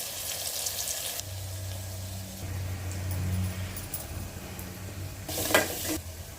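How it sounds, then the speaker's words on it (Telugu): Green chilies and curry leaves hit hot oil in a pan for a ridge gourd curry, giving a loud sizzling burst at the start, a quieter steady fry, then a second sharp crackle near the end. "పోపు పెట్టేసుకొని ఆయిల్ మిర్చి కరివేపాకు వేసేస్తున్నాను"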